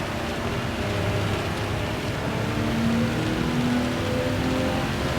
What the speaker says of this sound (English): It does look like the rain is going to get stronger.